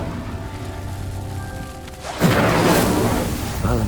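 A fire spell ignites a pyre in Hogwarts Legacy, a sudden loud whooshing burst of flame that flares up midway and crackles on over a steady game ambience, with a voice speaking.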